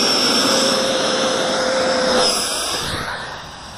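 A 70mm electric ducted fan on an RC F-22 Raptor jet, running a 6S battery and a 2200kv motor, screams at full throttle during launch, a loud steady whine that shifts and fades as the plane pulls away.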